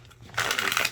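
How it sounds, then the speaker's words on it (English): A deck of thick, glossy tarot cards is shuffled with effort, giving a short, close, crisp riffling burst lasting about half a second. "I have to use my entire strength to get that to shuffle"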